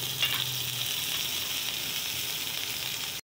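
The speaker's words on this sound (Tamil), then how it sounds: "நம்ம எடுத்து வச்ச பட்டரை வந்து அதில் சேர்த்துருங்க." Steady, close sizzling of butter frying in a hot pan, a continuous crackling hiss with a few small pops near the start.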